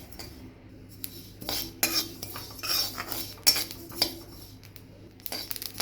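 Sesame seeds roast in a dry pan, stirred with a metal spoon that scrapes and clinks against the pan in irregular bursts, close and fairly quiet.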